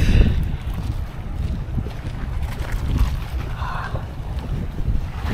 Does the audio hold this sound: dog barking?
no